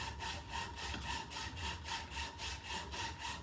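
A hand saw cuts through wood in steady back-and-forth strokes, about a dozen rhythmic rasping passes, close and clear with no talking.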